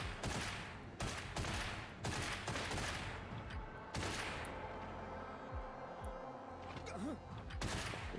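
Gunfire from shooting enemies in the video game Get Even: repeated sharp shots in a loose rhythm, some close together in bursts, moderately loud, with occasional speech from players between them.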